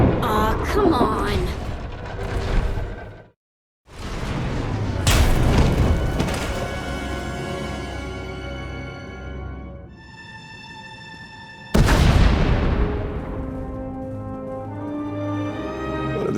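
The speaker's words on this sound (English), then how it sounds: "We heard explosions." Explosions in the video game Star Wars: The Old Republic, with several loud, booming blasts and deep rumbles that fill the scene, one sharp burst partway through, and a voice talking over the noise.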